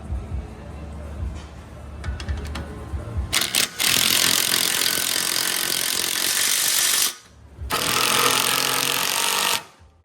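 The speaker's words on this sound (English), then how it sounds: "then you can continue to tighten down the nut" A power tool drives a stabilizer bar link nut on a car's front suspension, coming in as loud continuous bursts with a short gap partway through, after some light clanking of tools.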